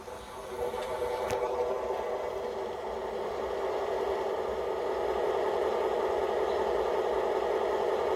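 A RailPro sound decoder plays a diesel engine sound through the small speaker of an MTH RailKing Santa Fe model locomotive, a steady, moderately loud idling rumble with a brief click near the start.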